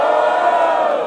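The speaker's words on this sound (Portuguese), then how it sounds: "Barulho pra essa batalha," An audience at a Brazilian freestyle rap battle during a carnival edition event cheers and shouts loudly in a dense, sustained roar throughout the brief moment.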